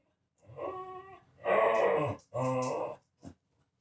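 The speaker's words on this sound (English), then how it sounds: "The one dog is growling at the other dog that's on top of the couch." One dog growls at another dog perched on a couch, making three close, drawn-out rumbling growls with a whiny edge, followed by a short final grunt and then quiet.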